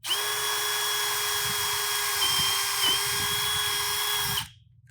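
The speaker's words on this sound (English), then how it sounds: "And then let the drill do the work." Power drill boring a hole for an iFLO install on a home A/C unit, a loud steady high whine with a grinding bite into the material, running continuously for several seconds before stopping abruptly.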